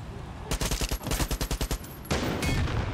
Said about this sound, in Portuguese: Olha o tanto de tiro que eu tô tomando